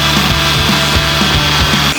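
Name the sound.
drilling into car body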